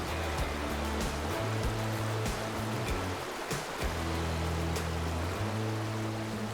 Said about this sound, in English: the River Lui water